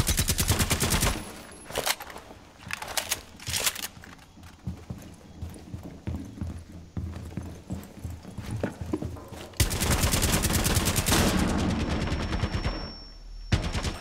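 Gunfire from the video game Rainbow Six Siege comes in dense rapid bursts of automatic fire. Heavy volleys open the clip, scattered shots follow in the middle, and a long loud burst comes near the end.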